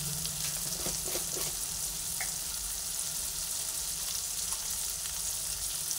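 Onion and garlic fry in hot oil in a pan with salt added, giving a steady, continuous sizzle and crackle over the whole stretch, with a few faint stirring knocks near the start and no talking.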